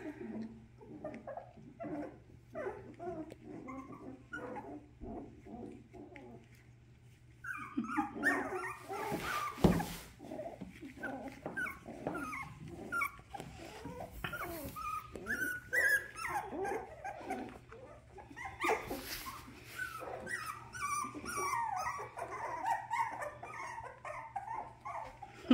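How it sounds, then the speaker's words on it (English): Small 23-day-old puppies growling and grumbling in short bursts, with little yips and whimpers mixed in, close by and lasting a long stretch. "So we're practicing our growls."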